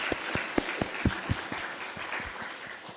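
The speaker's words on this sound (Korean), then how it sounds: "하나님께 감사와 또 영광의 박수 올려드리고" A church congregation claps during a Sunday worship service, a fairly close, uneven patter of many hands with a few sharper individual claps, sustained over a few seconds without speech.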